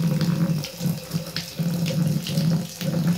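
A kitchen faucet runs hot water steadily into a plugged sink, a continuous rushing splash of water, close and fairly loud.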